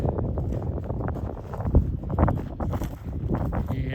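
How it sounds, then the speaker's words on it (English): Gusty wind buffets the microphone on the Duluth, Minnesota harbor shore near the lift bridge, a rough, rumbling wash with irregular low thumps and no talk. "And a little bit of wind."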